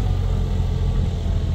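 A John Deere 5210 tractor's diesel engine runs at a steady, loud, low rumble, continuous and close, with no voices over it.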